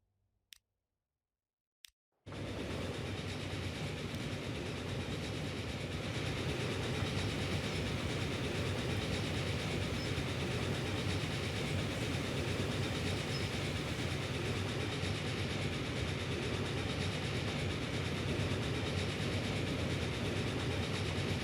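A train running in Transport Fever 2: after two brief clicks in near silence, a steady, moderately loud rolling rumble starts and continues unchanged to the end, with no talk.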